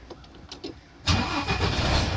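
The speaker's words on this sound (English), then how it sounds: "Depress the clutch and start the engine." Diesel truck engine starting in the cab: quiet ticking and brief cranking, then the engine catches with a sudden loud roar at about one second and settles into a steady, rumbling idle.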